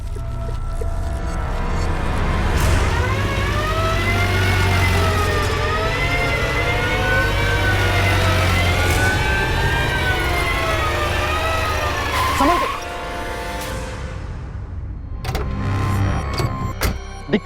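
A police car drives up close with its siren wailing in rising and falling sweeps over engine noise. The siren breaks off abruptly, followed by scattered clatter and brief voices.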